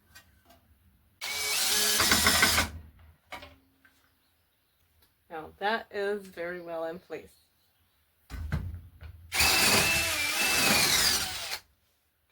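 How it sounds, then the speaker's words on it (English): A power drill bores pre-drill holes through plywood to mount a fuse box on a wall in a self-built home. There are two loud whirring bursts, one near the start and one near the end, and someone speaks briefly between them. "there are holes to where the pre-drills need to be drilled in to put the fuse box onto the wall"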